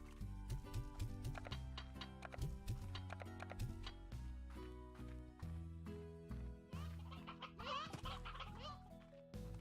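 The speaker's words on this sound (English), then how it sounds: "So many chickens. Look at all those chickens." Chickens cluck in the video game Slime Rancher, short repeated clucks layered over steady game music with a plucked, rhythmic backing.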